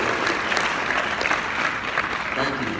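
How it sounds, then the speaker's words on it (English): An audience at a Mobile World Congress keynote in February 2019 breaks into sustained, dense applause, close and loud, lasting several seconds. "that should be a clap"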